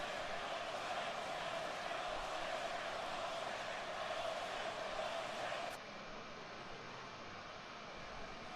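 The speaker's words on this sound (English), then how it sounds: "Oh my God, did you hear the crowd? Yeah, they're mad." An angry wrestling crowd jeers in a steady, dense roar that fills the space, then abruptly drops to a quieter, thinner din partway through.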